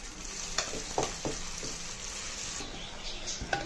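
Marinated chicken frying in a pan for Hyderabadi dum biryani, a soft continuous sizzle with a few sharp clatters and scrapes, fairly quiet and close, with no speech.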